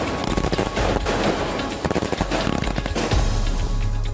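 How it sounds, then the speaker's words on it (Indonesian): Fireworks crackle and pop in rapid, overlapping bursts, a dense barrage of sharp bangs. "ini rasa syukur kita menyalakan kembang api malam ini ya"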